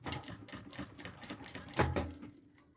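A sewing machine runs in short, fast bursts as it stitches heat-sealed bias binding along the edge of an executive bag, then slows and stops with a few final clicks.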